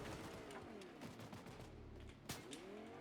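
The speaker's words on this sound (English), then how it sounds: "Someone's shooting at me." In a Fortnite match, bursts of gunfire ring out in rapid volleys, sounding moderately distant and fairly quiet, with one sharper report near the end.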